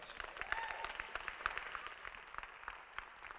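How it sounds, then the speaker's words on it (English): Applause from a gala audience at the Wendell Scott Foundation Legacy Gala, a soft, distant wash of many clapping hands with a few sharper claps standing out, steady throughout. "I would like big round of applause"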